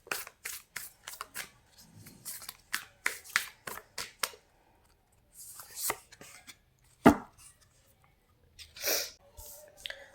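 A single tarot card drawn from a deck, with a series of brisk papery shuffling and snapping taps in quick bursts, then a louder slap and a few scattered rustles, all close and with no talk.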